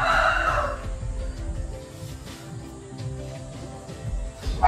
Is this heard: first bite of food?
no